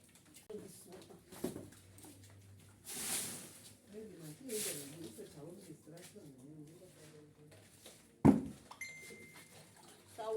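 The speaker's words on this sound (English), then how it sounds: "I will add in water here. I will repeat the washing process." Water sloshing and splashing as cassava abacha is washed by hand in a basin, with someone talking over the washing and a sharp splash or clatter near the end.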